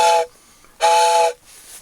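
Two sharp breathy blasts blown through a toy Thomas the Tank Engine train whistle, each a bright steamy toot about half a second long, with short pauses between.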